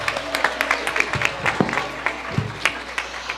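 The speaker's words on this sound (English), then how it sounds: "Let's give them another round of applause." An audience at a live cultural program in a temple hall claps after an energetic stage performance, a steady patter of applause with scattered louder individual claps throughout.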